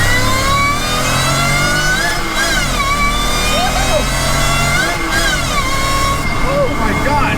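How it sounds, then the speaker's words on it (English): A supercharged J32A2 V6 in a Toyota MR2 SW20 pulls hard at full throttle, engine tone climbing loudly through the revs with shifts and a rising whine, close and continuous throughout. "we are doing one last pull."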